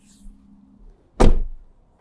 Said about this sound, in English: Let me close this sliding door.